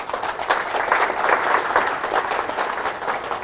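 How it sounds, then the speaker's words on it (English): An audience at a talk breaks into sustained applause, a dense, even wash of clapping that holds steady throughout with no voices rising above it. "so I think you can give him a round of applause for that."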